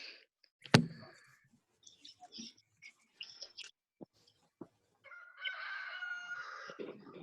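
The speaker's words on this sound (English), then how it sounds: "I'm sorry about that stupid rooster." A rooster crowing outdoors, a long strained crow near the end after scattered clucks and clicks, fairly close and clear with no talk over it.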